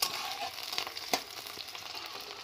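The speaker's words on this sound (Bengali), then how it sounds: "তেল দেওয়ার পর আমি পেঁয়াজ কুচি দেবো। পেঁয়াজটা আমি ভালো করে নেড়ে চেড়ে আমি নেব।" Chopped onions fry and crackle in hot oil in a kadai for a bottle gourd and shrimp dish, a close, steady sizzle with occasional sharper pops as they are stirred.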